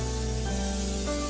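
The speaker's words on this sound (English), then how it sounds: "we're gonna have to take our oil or spray and spray it inside of our pan here" Cooking oil spray released into a pan, one loud, close, continuous hiss of spray lasting the whole moment without a break.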